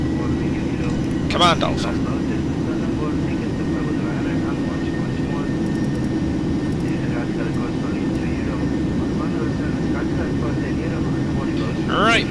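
A Boeing 737-800 in the PMDG flight simulator drones with a steady, loud jet-engine roar after takeoff, continuous and close, while someone speaks briefly over it.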